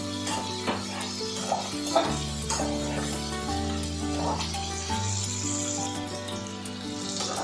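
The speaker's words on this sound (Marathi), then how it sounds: "फ्राय होते पाहू शकता लालसर असं फ्राय करून घ्यायचं" Onion and garlic frying in a pan, a steady close sizzle with soft stirring scrapes and light clinks, accompanied by a constant low hum.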